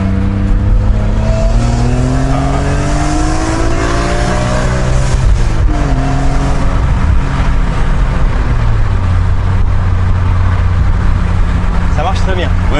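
A large-displacement Bavarian motorcycle engine revs repeatedly and climbs through its range while people talk over it in French.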